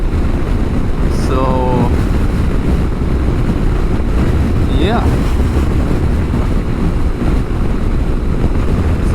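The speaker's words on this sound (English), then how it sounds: "It is very windy." Heavy wind buffets a microphone on a highway drive near Copenhagen, a loud continuous low roar throughout, with a voice briefly speaking over it.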